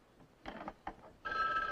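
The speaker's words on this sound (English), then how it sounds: "It's the phone, not the alarm." A telephone rings late at night, past two in the morning, in a few short, fairly faint bursts that end in a sustained electronic trill, with no voices.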